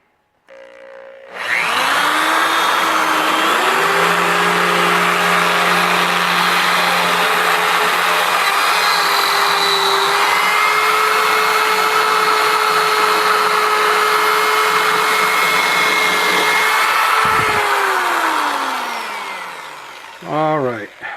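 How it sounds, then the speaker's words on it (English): A shop vac roars to life and runs as one loud, steady, whining motor drone for about seventeen seconds while it sucks up the mess from a mold-casting project, then spins down and stops. "Then I need to use the shop vac and clean up this mess."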